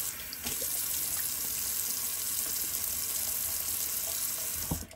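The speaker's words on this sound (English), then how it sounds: "let me just give a quick little rinse again," Tap water runs in a steady, close hiss into a sink while a Wilkinson Sword Classic safety razor is rinsed, with a couple of light knocks near the end and no talking.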